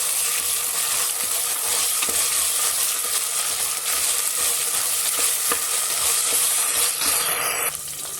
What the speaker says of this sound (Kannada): ಹಾಕ್ಕೊಂಡು ಹಸಿ ವಾಸನೆ ಹೋಗೋ ತನಕ ಫ್ರೈ ಮಾಡ್ಕೊಳ್ಳಿ.